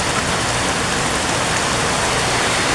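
An 18-watt aquarium air pump aerator churns water in a koi fish tank, a steady, dense wash of bubbling and splashing that fills the whole stretch without pause, close and fairly loud.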